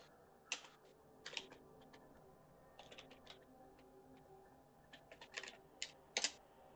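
Quick, close computer keyboard typing while writing a chat message, bursts of light key clicks separated by short pauses over a faint steady background hum.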